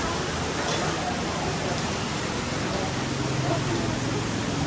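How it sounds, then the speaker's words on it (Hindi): Heavy monsoon rain falls in Kathmandu, Nepal, as a dense, continuous hiss with no breaks, loud and close throughout. "यहाँ पर मानसून स्टार्ट है, तो यार बारिश आपको दिखाता हूँ, ये देखो बारिश कैसे हो रही है।"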